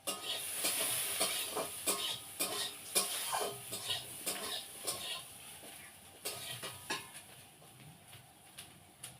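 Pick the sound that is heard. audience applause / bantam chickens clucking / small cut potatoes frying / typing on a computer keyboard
small cut potatoes frying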